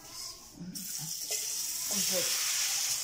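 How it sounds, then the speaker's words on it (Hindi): Besan-coated naan sizzles and fries in hot cooking oil, a steady close hiss that grows louder as it settles into the pan, with a voice speaking briefly over it. "तो अब इसे भी डालते हैं कुकिंग ऑयल।"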